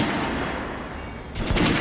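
Rapid weapon fire from the video game Metro Last Light, dense loud bursts of shots running continuously, with a sharper burst near the end.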